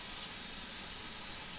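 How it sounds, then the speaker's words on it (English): Running water rinsing out a cooking pan, a steady, even hiss of spray close by with no break and no voices. "Just rinse this out."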